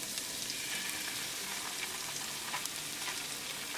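Ginger, garlic and green chili paste fries with sauce in a pan, a steady soft sizzle with faint stirring scrapes and no talking.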